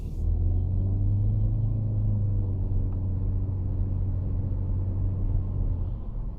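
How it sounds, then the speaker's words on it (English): A 2020 Chevy Malibu LT engine pulling hard up a steep hill, a steady low droning rumble heard from inside the car, loud and continuous with no talking. "So if I just want to go up this little hill real quick, let you hear the engine."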